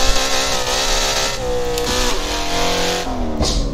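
A BMW M3 E92 with a straight-pipe exhaust in Assetto Corsa roars loud and close, its engine revving up and down through several gear changes with raspy, crackling exhaust bursts.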